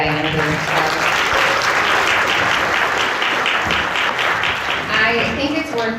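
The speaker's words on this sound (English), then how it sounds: "Can we give one more round of applause" A crowd claps in sustained, dense applause throughout, with some speech mixed in underneath.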